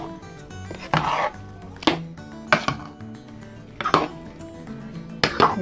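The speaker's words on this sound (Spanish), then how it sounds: "Y ahorita ya la voy a revolver." Tomato salsa with onion and cilantro being stirred, a spoon knocking and scraping against the bowl in about five sharp, irregularly spaced clacks over a low background hum, fairly close.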